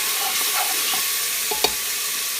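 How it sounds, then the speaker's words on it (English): Onions fry over low heat for a beef curry, a steady moderate hiss of sizzling oil with a few light stirring taps and a small clink near the end; no speech. "I slowed down the heat because I don't want to burn the onions."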